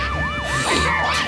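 Sirens wail in Luigi's Mansion 3 as a fire-crew character arrives, a loud, continuous rising and falling siren sweeping up and down in steady cycles, with no voices over it.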